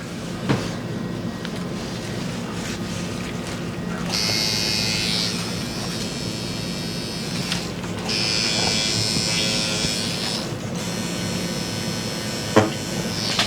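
Tattoo machine buzzing steadily while laying in solid color on a cartoon character tattoo, a close, even electric drone that cuts in and out in bursts with short pauses between passes.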